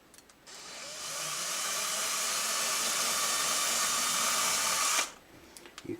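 Drill bit boring screw holes into the wooden headstock of a guitar kit while tuning machines are fitted, a steady loud whirring hiss for several seconds that stops abruptly, followed by a few small clicks.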